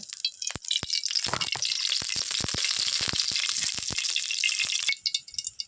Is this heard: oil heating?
yes